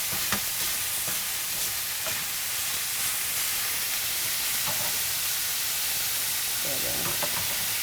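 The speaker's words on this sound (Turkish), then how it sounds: "Orada tereyağı da kavrulmaya başladı." Butter sizzles in a pan with a constant loud frying hiss, broken now and then by small crackles and stirring sounds.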